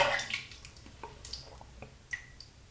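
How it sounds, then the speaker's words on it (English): Faint drips and small wet splashes of water being added to a shaving brush, scattered and irregular, close by in a quiet room. "let me just add a bit of water to the brush"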